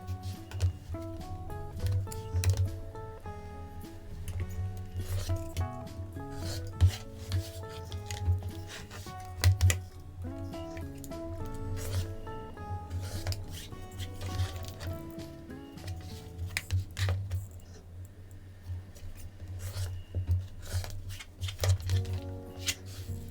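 Half square triangle quilt blocks are trimmed to size against a ruler: soft, steady rubbing and cutting sounds repeat close by over a constant low hum, without speech.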